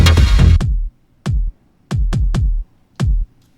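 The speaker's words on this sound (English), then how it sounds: "Or we can have an irregular beat with an irregular kick like this." A kick drum plays an irregular pattern in Ableton Live: five deep, punchy thumps with uneven gaps between them, loud and dry, with no other instruments.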